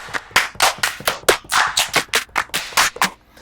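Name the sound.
80s-style clap samples played on an MPC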